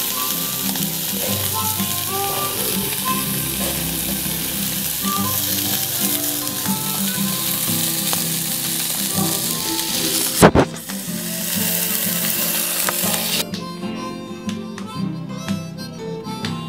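Mediterranean burgers fry on a Jimbo Jitsu Rock Stove with a loud, continuous sizzle and crackle, interrupted briefly by a sharp clatter before the steady hiss resumes.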